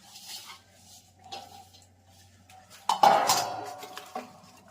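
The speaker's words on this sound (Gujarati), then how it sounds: "આ બદામ અને આ ટોપરું મિક્સ કરવાનું" Almonds and grated coconut stirred together for gond pak, with soft scraping and a few sharp metallic clinks of a spoon against a steel vessel, louder near the end.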